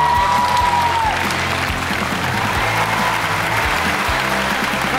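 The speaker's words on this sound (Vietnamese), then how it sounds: "Và một tràng vỗ tay dành cho các khách mời của ngày hôm nay." A studio audience on a Vietnamese TV comedy show applauds the day's guests, with dense, steady clapping filling the room at full volume from start to finish.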